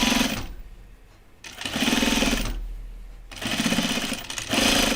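A sewing machine topstitches a cardigan in three close bursts of rapid, buzzing stitching, each lasting about a second, separated by short quiet pauses.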